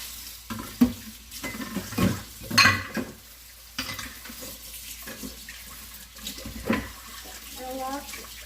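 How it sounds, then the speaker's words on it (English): Egg yolks being stirred and folded into a Danish cream filling, with soft intermittent scraping and clinking in a kitchen, a few louder knocks scattered through the mixing. "We got our egg yolks in there. Now we're just going to mix that."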